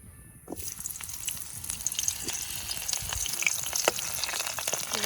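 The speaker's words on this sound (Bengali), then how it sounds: "তো আমরা এখন দিয়ে দেবো পেঁয়াজ কুচিটা।" Chopped onions drop into hot oil, setting off a sudden sizzle after a quiet moment; the frying then crackles on steadily, close and fairly loud, with occasional stirring sounds.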